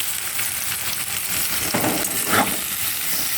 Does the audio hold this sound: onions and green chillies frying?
yes